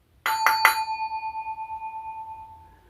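A handheld bell used for a trivia game is struck three times in quick succession, then rings on with a clear, slowly pulsing tone that fades away, alone and close.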